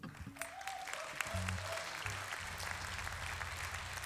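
Live concert crowd applauding a band at a Hungarian birthday memorial gig, a dense sustained clapping wash with a few faint tonal notes from the stage early on, no talk over it.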